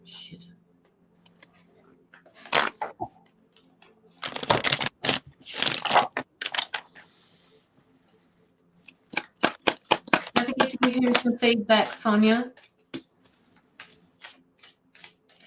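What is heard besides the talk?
tarot cards being shuffled loudly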